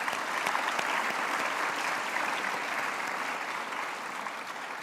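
Audience applause at a Burundi cultural festival presentation, a steady wash of many hands clapping at moderate distance, holding evenly and tapering slightly near the end.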